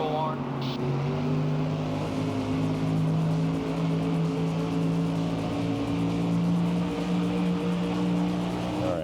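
NASCAR race car engine from the video game NASCAR Thunder 2004, droning steadily through a corner with sustained harmonic whine and slight pitch shifts, loud and continuous, with someone talking over it.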